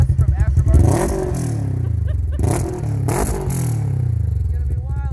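A Polaris RZR RS1 side-by-side with an aftermarket tune and loud aftermarket exhaust revs up close, deep throaty bursts rising and falling with rattly clatter, loud and continuous.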